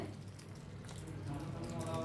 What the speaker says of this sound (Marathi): एका वाटीत आपण मिरच्या टाकूया त्यावर ओतूया गरम पाणी